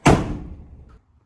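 A 2004 Chevy Silverado door, fitted with replacement hinge pins, swings shut with a single loud, close solid slam that decays over about a second.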